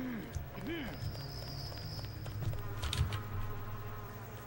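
Insects buzz and drone in Deus Ex, a steady hum with wavering tones beneath someone talking over the game.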